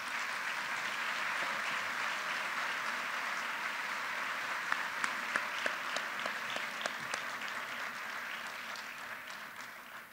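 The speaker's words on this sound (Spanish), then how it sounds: "Un aplauso, por favor" Audience at a formal Colombian education honours ceremony gives sustained applause for an award recipient, a steady, dense and moderately distant clapping lasting about ten seconds with a few crisp claps standing out midway.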